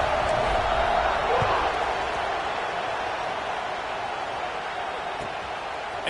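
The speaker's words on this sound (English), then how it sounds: "this crowd is buzzing after that last score" A football stadium crowd buzzing after a touchdown, a steady distant roar of many voices filling the stands, continuous and fairly even in loudness.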